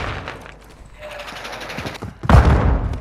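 Gunshots in the video game Call of Duty Modern Warfare II: scattered shots and mechanical clatter, then a sudden loud blast near the end.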